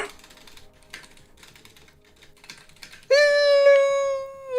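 Quick, light clatter of typing on a computer keyboard during a Battlegrounds game session, fairly quiet, until a loud sustained harmonic tone abruptly cuts in and drowns it out.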